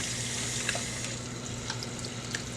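Tap water runs steadily into a sink while dentures are rinsed, a constant close hiss with small splashes and no talking.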